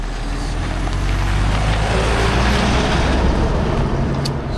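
A vehicle rumbles past on a road in the Scottish countryside along the West Highland Way, its broad, steady noise loud and close for a few seconds.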